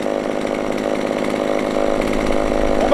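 Small 25.4cc chainsaw idling and running steadily after a membrane repair, a buzzy two-stroke engine drone close by, alone with no talking, rising slightly toward the end.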